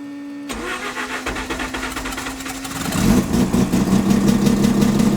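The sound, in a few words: rebuilt rotary engine of a first-gen Mazda RX-7 starting up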